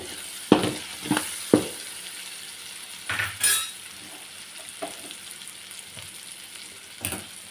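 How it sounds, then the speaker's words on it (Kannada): Frying in oil in a pan, a soft low sizzle beneath a few sharp clinks and scrapes of a utensil against the pan, scattered irregularly and close. "ಇದು ಚೆನ್ನಾಗಿ ಎಣ್ಣೆಲಿ ಸ್ವಲ್ಪ ಫ್ರೈ ಆದಮೇಲೆ"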